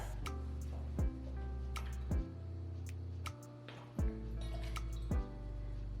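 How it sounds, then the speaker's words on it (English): Lime juice and simple syrup being poured for a kiwi cucumber margarita, a close series of liquid drips and pours with rhythmic splashy plops roughly once per second over a low steady hum. "We're going to need 3/4 of an ounce of lime juice, 3/4 of an ounce of simple syrup."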